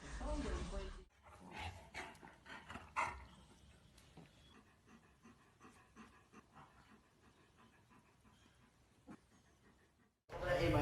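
A dog barks and whimpers in short, uneven bursts indoors, close by, with people talking over it and loud noise at the start and end.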